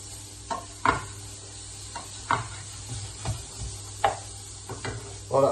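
Bacon frying in a pan gives a faint sizzle under scattered sharp clinks and taps of a utensil against the pan.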